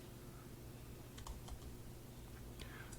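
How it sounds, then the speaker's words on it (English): Keystrokes on a computer keyboard typing a web address into a browser, a short burst of soft, sparse clicks over a steady background hum, close and fairly quiet. "let me just type it into the browser to make sure I've got this right."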